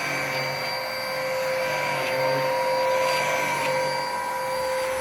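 Saker UV bed vacuum running in suction mode with heat, UV and ultrasonic functions on, a steady close motor whine with a high tonal hum, continuous and alone.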